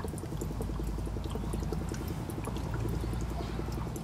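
A 16-plate HHO generator bubbling gas through water, a dense continuous fizzing and gurgling of many small bubbles, close and steady without pause.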